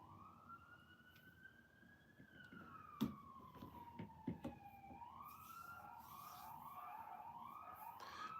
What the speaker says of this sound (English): As you can hear, the police sirens are flying all around.